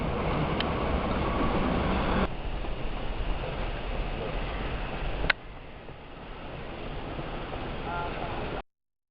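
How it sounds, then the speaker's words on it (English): A Docklands Light Railway train rumbles past nearby in London, a steady broad roar with a sharp click midway, fading out at the end. "Docklands Light Railway."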